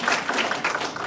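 Audience applause at a talk on women's hormonal health, a dense steady wash of many hands clapping together, fairly loud and close, with no voices over it.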